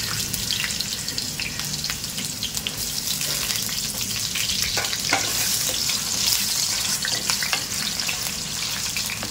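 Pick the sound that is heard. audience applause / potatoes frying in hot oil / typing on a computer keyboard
potatoes frying in hot oil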